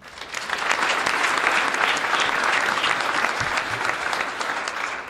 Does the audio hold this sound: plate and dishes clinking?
no